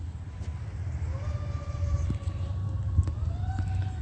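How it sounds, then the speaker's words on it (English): An emergency vehicle siren wails as it pulls out of a grocery store parking lot, rising and falling over low traffic rumble at moderate distance. "who's coming out of the grocery store parking lot with their sirens"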